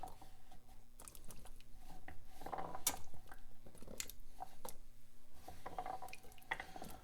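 Antelope shoulder meat lowered slowly into cooking liquid for a roast, giving faint, soft wet plops and small drips with light clinks in a quiet kitchen.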